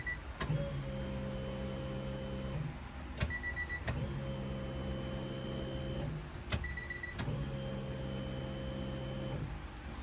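A car fuel pump in a Honda EG hatchback runs with a steady electric whirring hum that cuts off and restarts three times, each run lasting a couple of seconds, with a faint background hiss.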